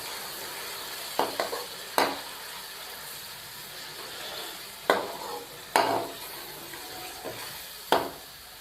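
Spices fry in a pan with tomatoes and yogurt, a soft continuous sizzle broken by several sharp stirring scrapes of a spoon against the pan, close and fairly quiet.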